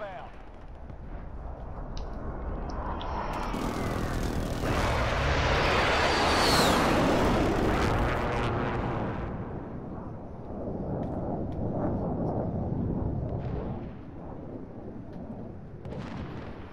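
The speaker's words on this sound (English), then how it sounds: "Be advised, friendly precision airstrike inbound." Call of Duty: Modern Warfare precision airstrike, a long rolling barrage of heavy explosions building to a loud roaring peak and then rumbling on more faintly, with distant gunfire and game voices underneath.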